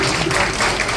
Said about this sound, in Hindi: एक जोरदार ताली उनके लिए होनी चाहिए।